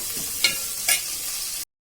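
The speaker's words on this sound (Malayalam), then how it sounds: "ഞാൻ ആദ്യം സവാള ഇടുകയാണ്. സവാള ഇട്ട് നല്ലതുപോലെ" Onions frying in a pan over a steady sizzle, with two brief louder scraping stirs, then the sound cuts to silence near the end.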